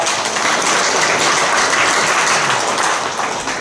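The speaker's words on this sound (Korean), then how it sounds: "우리 하나님 아버지께 영광의 박수 올리겠습니다." A congregation at a Korean church Bible seminar service claps together in a dense, continuous round of applause that holds steady and eases off slightly at the end.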